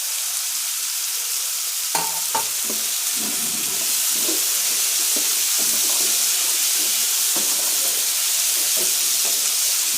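Red pumpkin pieces frying in hot oil over softened onion, stirred in a pan, giving a steady continuous sizzle with occasional scrapes and clinks of the spoon, no talking.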